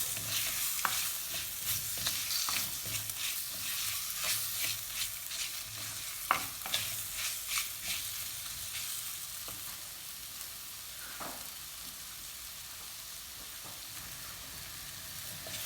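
Spice powder and tomatoes fry for a Tamil fish curry, giving a soft, steady sizzle close by with scattered stirring clicks and scrapes, and no voices.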